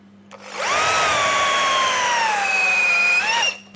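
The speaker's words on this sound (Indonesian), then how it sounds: "terakhir kita akan cobain ke mata bor auger ya" Dongcheng DJZ10-10 electric drill spinning a long auger bit, a single loud burst of rising motor whine that holds steady for about three seconds, then winds down quickly.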